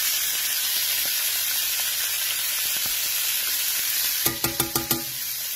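Butter steadily sizzles and hisses in a cast iron pan while food is basted with a spoon. Near the end, five sharp metallic spoon taps ring out in quick succession.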